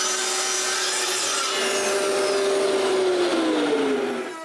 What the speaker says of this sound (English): Then I cut a small strip of the plywood I'm going to use.